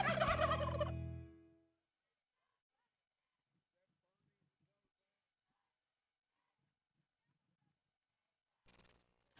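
A turkey gobbles loudly in a car dealership advert, one rapid warbling burst up front followed by near silence and a brief faint noise at the end.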